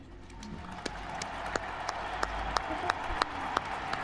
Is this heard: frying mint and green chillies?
no